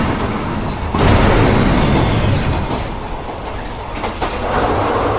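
A freight train rolls on its rails in an animated horror short, a loud close rumble with rhythmic clickety-clack thumps and a brief metallic squeal, alone with no voices.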